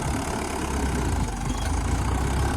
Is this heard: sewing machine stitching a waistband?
no